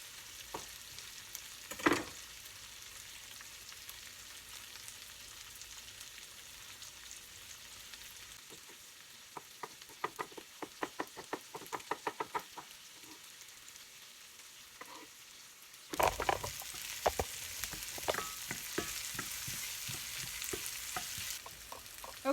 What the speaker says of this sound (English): While the onions are cooking and sauteing, I'm going to add a couple of diced garlic to this as well.